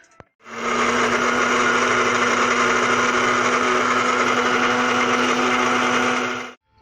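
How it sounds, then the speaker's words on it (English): A blender whirs at full speed, chopping onion, garlic and ginger in one loud, steady run lasting several seconds. It starts and stops abruptly, with no voices over it. "Alright, so now see them I'm gonna throw in the blender"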